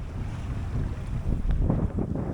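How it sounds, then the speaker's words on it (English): A sailboat under sail alone on a beam reach off the UK coast, with steady wind noise buffeting the microphone and a continuous wash of water along the hull, no engine heard. "we are sailing, no engine, on a beam reach"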